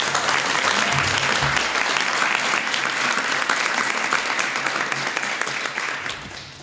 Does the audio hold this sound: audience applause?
yes